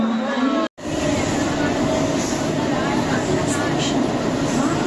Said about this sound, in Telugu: రైల్వే స్టేషన్ కూడా వచ్చేసా, మా ట్రైన్ కూడా వచ్చేసింది.